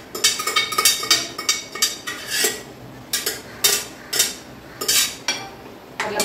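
Chana dal going into a cooking pan makes a run of sharp metallic clattering and rattling bursts, close and fairly loud, in an irregular rhythm with no speech.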